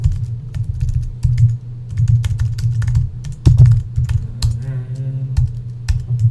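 Fingers tap a computer keyboard while writing code, making quick irregular clicks and key strikes up close over a low hum, with a few pauses between bursts.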